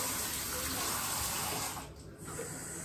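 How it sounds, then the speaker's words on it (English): Cold water runs from a tap into a sink, a steady hissing stream that dips briefly near the end before flowing again, close and clear with no talk over it. "Sorry, I'm gonna put some cold water."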